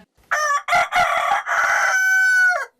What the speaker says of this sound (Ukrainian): 14-річний Василь Довгаль показує декоративних курей у своєму господарстві